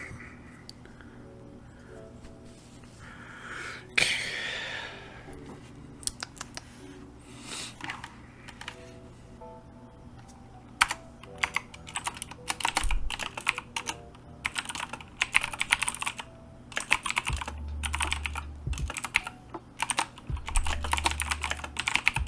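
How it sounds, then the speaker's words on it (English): Fingers type on a computer keyboard while writing a book, a quiet, fast, irregular patter of key clicks that grows denser and louder in the second half, with a few heavier thumps, no talk heard. "it's time to type"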